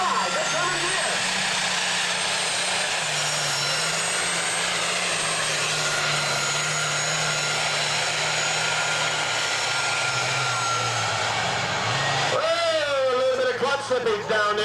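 Roaring 1998 NTPA super stock pulling tractor running turbochargers, a loud, dense, continuous engine blare with rising whine that holds steady before shifting near the end, with talk faintly underneath.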